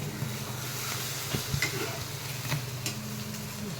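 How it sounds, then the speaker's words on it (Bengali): Eggs frying in oil in a pan make a steady close sizzle, with a few faint scraping ticks as they are stirred and moved. "अंडा फ्राई हो रहा है"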